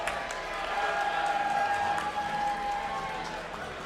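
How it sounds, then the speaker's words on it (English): Steady applause from an audience at a Monster Hunter World: Iceborne speedrun tournament, a dense even patter of many hands clapping at moderate volume, with a faint tone underneath. "can I get a round of applause for the last final team, Team Kua, featuring TSC and Sam Grass"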